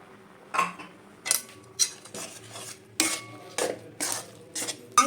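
A spoon stirs a dry mix of semolina and rice flour with salt in a bowl, producing about nine distinct scraping, clinking strokes at an uneven rhythm, close by and alone without talk.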